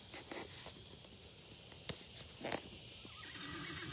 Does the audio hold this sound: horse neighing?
yes